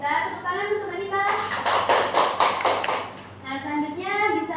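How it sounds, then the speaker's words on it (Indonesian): A classroom of students claps together for a classmate who has just read her own poem aloud, a dense burst of applause lasting about two seconds, with a teacher's voice talking before and after. "Tepuk tangan untuk Mbak Rita."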